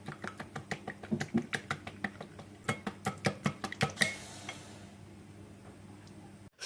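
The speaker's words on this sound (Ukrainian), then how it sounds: "І ретельно все розмішую." Rapid rhythmic clicking and tapping of a spoon against a bowl while stirring a sour cream batter for onion fritters, steady strokes for several seconds, then quiet; close and fairly soft.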